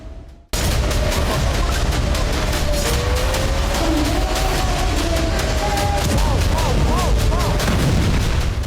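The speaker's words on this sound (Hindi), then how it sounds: "आप देख सकते हैं आयरन डोम ने कैसे ईरानी मिसाइल को हवा में उड़ा दिया" After a brief silence, a loud, continuous roar of booms and crackling blasts begins as Iron Dome interceptors destroy Iranian missiles in the air over Israel. The explosions overlap densely and never let up.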